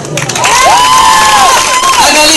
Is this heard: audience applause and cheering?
yes